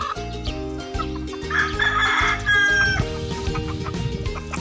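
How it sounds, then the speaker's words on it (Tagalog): A flock of chickens on a breezy, cool hangout spot clucks busily while roosters crow over it, loud and continuous across the short stretch with overlapping calls and no talking. "Dami, dami manok dito."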